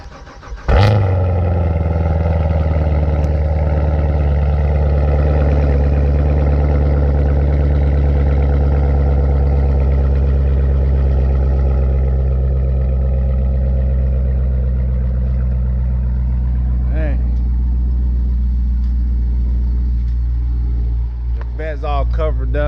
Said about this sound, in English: Let's start the vet up